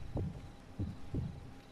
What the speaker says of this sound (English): Let the heartbeat slow down.